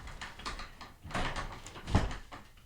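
A door is handled and pushed shut, soft scraping and rattling ending in a low thud near the middle, heard up close without speech.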